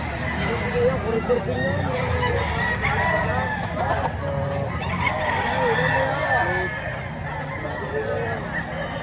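A chicken shown for sale at a fowl market, with clucking and crowing birds amid a busy babble of people talking, continuous and moderately close throughout.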